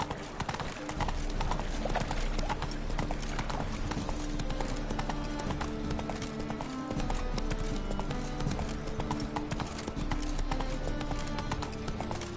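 Roach the horse trots in Witcher 3, hooves clip-clopping in a steady, even rhythm with music and ambient game sound underneath, while a voice speaks briefly.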